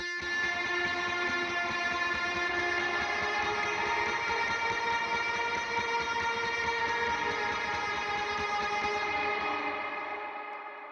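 An electric guitar with heavy sustain and effects plays root notes in a thick, droning tone that rings steadily, then starts to fade near the end.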